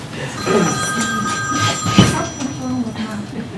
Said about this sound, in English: Turn your phone off, man.